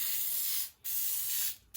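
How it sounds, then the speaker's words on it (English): Web spray adhesive hisses from a can onto rug backing in two close, steady bursts, each cut by a short silent gap. "it's pretty easy to aim with this because it's like a web spray and it's like a straight shot."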